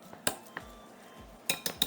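Baked sweet potatoes being mashed with a masher in a small bowl with butter and half-and-half, giving a few sharp metallic clinks and knocks at irregular intervals against a quiet background.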